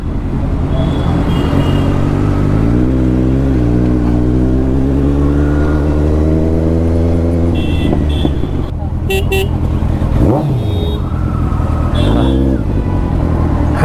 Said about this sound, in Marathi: फर्स्ट टाइम माझ्या हातामध्ये थाउजंड सी सी आहे थाउजंड सी सी म्हणजे एक वेगळा फील असता फायरिंगचा आवाज तुम्हाला येत असेल